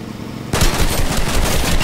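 Enemy players in a Fortnite match open up with a burst of rapid automatic gunfire that starts abruptly and continues as a loud, dense rattle of shots.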